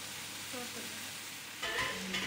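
Fried rice with mixed vegetables, black pepper and salt sizzles steadily in a home kitchen pan, with a louder burst of stirring and frying toward the end.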